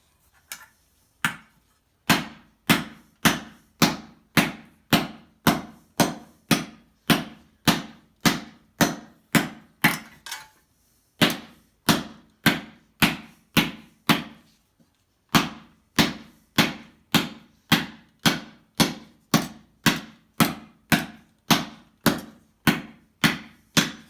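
A hammer strikes a metal armor elbow piece to stretch it, giving sharp, ringing blows at an even, rapid pace. The blows are close and loud, with two short pauses between the bursts.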